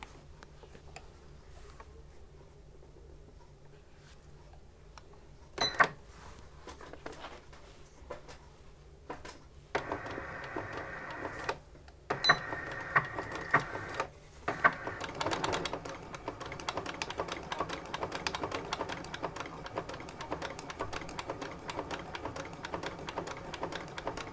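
A sewing machine stitches a label, running in bursts of rapid mechanical ticking that grow steadier and continuous toward the end, close and moderately loud with no talking.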